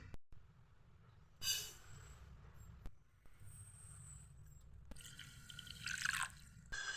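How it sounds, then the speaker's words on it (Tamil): Soft bubbling and popping from a pot of sugar and water boiling into syrup for lemon squash, with intermittent drips and sizzles and a low steady rumble beneath. "சர்க்கரை கரைஞ்சி பிசு பிசுப்பு பதம் வர வரைக்கும் நல்லா கொதிக்க வச்சிடலாம்"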